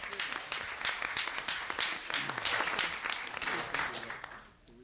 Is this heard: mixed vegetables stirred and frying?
no